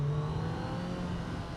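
A Kawasaki Z900 SE motorcycle engine runs at low revs, a smooth, steady hum with a constant tone that holds close and loud for the full moment, with no voices.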